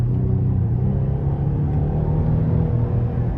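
A 2015 Buick Enclave with a 3.6 V6 and six-speed automatic accelerating on a test drive, giving a steady, droning engine rumble from inside the cabin with no talking.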